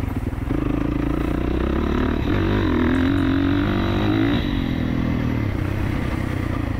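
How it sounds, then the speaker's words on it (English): A 2024 Kawasaki KX450 dirt bike rides a small, tight track, its engine droning steadily and loudly at moderate throttle without being opened up, with slight shifts in pitch and some mechanical clatter. "Keeping the course nice and small, tight. Like I said, I'm trying not to open the bike up much."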